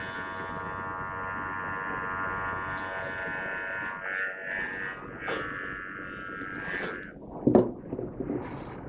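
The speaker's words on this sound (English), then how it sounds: "Or you can make a little line with your clipper" Electric clippers buzz steadily through a poodle's thick coat during grooming, a continuous close hum that shifts in pitch as the blade moves, broken near the end by a few brief scrapes and handling noises.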